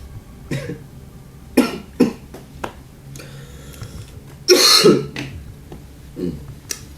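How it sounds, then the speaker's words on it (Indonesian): Harsh, repeated coughing fits, several loud bursts spread out with pauses between, heard close up over a low background hum. "batuk Anda parah sekali."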